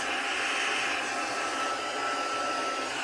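Steady, close whoosh of a hair dryer blowing continuously to dry ink on a printed image, loud and unbroken with no talk.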